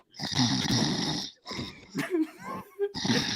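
Loud, rasping human snores come in long, rough breaths, broken by a brief pause and some wheezy gasps before the snoring resumes.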